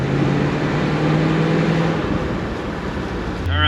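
A junk 1967 Chevrolet Camaro engine runs close by with a loud, steady rough drone and an underlying rattle. The note shifts slightly partway through.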